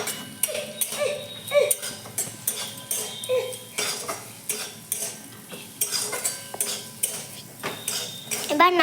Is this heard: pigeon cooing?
no